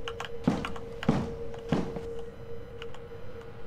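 In the horror video game Lethe, three heavy thuds land about half a second apart against a constant droning hum, followed by fainter knocks, with no talking.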